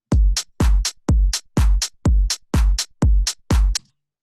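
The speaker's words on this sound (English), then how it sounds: "hi-hat, kick with the clap" Tech house drum loop of kick with clap and hi-hats, a punchy low kick paired with a bright snap on each beat, eight steady hits in a tight, loud, repeating pattern.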